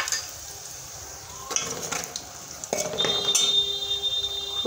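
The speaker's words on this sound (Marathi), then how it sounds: "आता तेल गरम झालेलं आहे, लसूण टाकून घेऊ।" Garlic and coconut frying in hot oil, a steady close sizzle with a sharper burst as fresh ingredients drop into the pan, plus brief clinks of a utensil against the pot.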